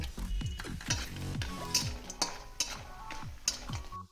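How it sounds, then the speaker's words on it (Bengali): Lentil dumplings (bori) frying in hot mustard oil in a pan, with a steady sizzle under repeated clinks and scrapes of a spatula against the metal, close and fairly quiet throughout. "এবার আমি এই তেলের মধ্যে বড়িটা ভেজে নেব।"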